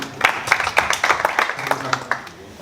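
Scattered clapping from a small audience welcomes a speaker coming on stage at a poultry farming event, uneven handclaps at moderate loudness for a few seconds, mixed with faint voices.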